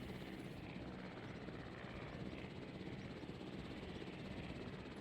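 A transport helicopter in the video game Jurassic World Evolution drones with a dense, steady rotor and engine roar that fills the whole stretch at constant loudness, with no speech.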